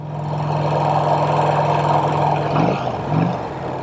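A Vincent Rapide motorcycle engine runs with a steady, deep, throbbing beat that holds even and loud at close range, then briefly shifts pitch as the revs change near the end.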